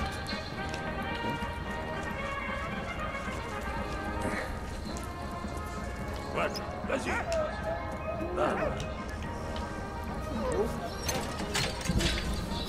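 Dog in the video game Valiant Hearts barks and yips in short scattered bursts, with whimpers mixed in, heard alongside footsteps and a person talking over the game audio.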